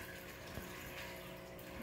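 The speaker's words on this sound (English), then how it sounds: "And you can hear the water." Water from an aquarium return pump in a box on the tank, added in place of a sump, flows and splashes steadily, a constant close hiss and gurgle with no talking.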